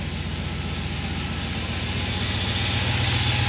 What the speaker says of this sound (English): Sounds like a modern vehicle now without any delays